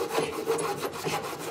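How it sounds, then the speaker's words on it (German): Hand saw cutting through wood on a folk theatre stage, a quick series of rough rasping strokes in a steady back-and-forth rhythm, close and fairly loud. "Ich kann bloß sägen oder nicht sägen!"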